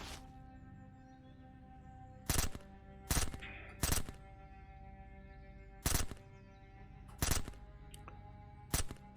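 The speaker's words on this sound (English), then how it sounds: "I can fire this one a long time." Machine gun firing in the Surroundead zombie survival game: six or seven separate short bursts spaced a second or two apart over a low steady hum, moderately quiet overall.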